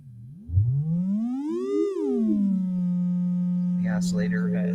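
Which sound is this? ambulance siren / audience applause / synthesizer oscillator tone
synthesizer oscillator tone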